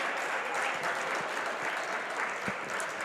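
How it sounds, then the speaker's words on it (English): A crowd at a boys high school volleyball game between Mepham and Levittown applauds, a dense, even wash of clapping held steadily from a moderate distance without a break. "The applause from the crowd."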